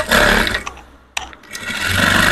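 A domestic sewing machine runs a top stitch through three-piece dress fabric, a loud steady motor whir that pauses briefly midway, then resumes and builds again.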